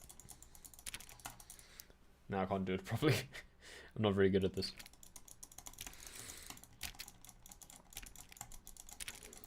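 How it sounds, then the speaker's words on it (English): Rapid, steady mouse clicks in The Stanley Parable run continuously under a man's speech, sharp and close, barely pausing. "Speed clicking."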